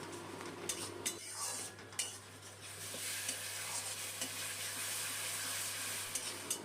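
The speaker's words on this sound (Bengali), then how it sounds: "এখন এই মশলাটা একটু সময় নিয়ে ভালো করে কষাতে হবে" A spoon scrapes and clinks against a pan as an onion, tomato and ginger-garlic masala is stirred and sautéed, with a soft continuous sizzle underneath, nearby and fairly quiet.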